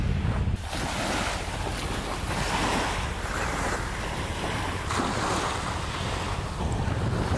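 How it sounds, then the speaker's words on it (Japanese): Ocean waves surging onto a windy beach, a continuous loud wash of surf with steady wind rumbling across the microphone, no voices. "波の音が聞こえてきた。"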